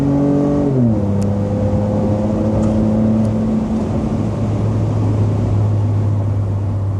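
Ford F-150 EcoBoost twin-turbo V6 pickup exhaust with aftermarket tuning, steady drone that drops in pitch early, then holds a loud, continuous deep hum under added throttle, no talking.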